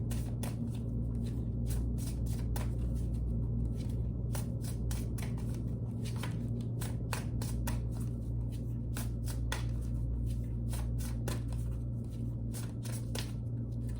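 Tarot cards riffle-shuffled over and over, a brisk stream of crisp flapping bursts with short pauses between shuffles, close and clear over a low steady hum, with no talking.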